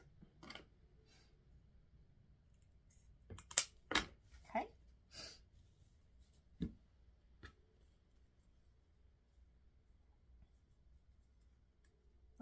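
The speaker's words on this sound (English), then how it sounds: "Just fold that ribbon in half and cut up." Scissors snip through ribbon folded in half to cut a V into the ends for a deco mesh wreath, making a few sharp, close clicks and crisp cuts in an otherwise quiet room.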